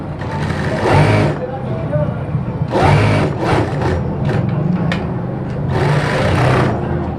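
Sewing machine stitching side pockets onto a kameez, running in three short bursts of whirring stitches with quieter pauses between, close by, alongside a voice.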